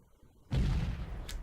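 A Hellfire missile launch from a helicopter in the Comanche Gold game, a sudden deep booming rush that stays loud after its onset.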